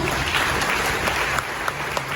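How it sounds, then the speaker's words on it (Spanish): Church congregation applauding during a prosperity retreat service, a dense, continuous wash of many hands clapping at a steady loudness, with a few sharper claps standing out near the end and no speech. "Vamos a darle un aplauso al Señor,"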